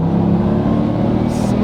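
A supercharged Y62 Nissan Patrol engine pulls hard on a dyno, a loud, steady, close roar under load with a brief higher hiss near the end, while people talk over it.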